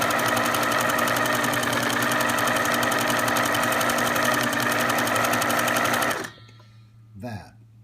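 Vigorelli sewing machine running a zigzag-pattern straight stitch, a fast loud rhythmic whirring clatter that runs steadily for about six seconds and then stops abruptly, leaving faint handling noise.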